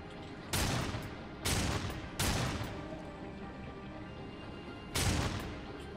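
In the Darksiders 2 video game, four separate heavy gunshot-like blasts go off, three in quick succession and one after a pause, each loud and sharp with a decaying echoing tail over low game ambience.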